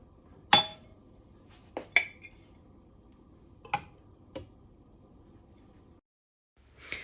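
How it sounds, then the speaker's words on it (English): A serving spoon clinks sharply against a pot several times, with pauses between strikes, as oven-baked jollof rice is dished out; no one talks. "So we are going to serve our rice, our oven baked jollof rice."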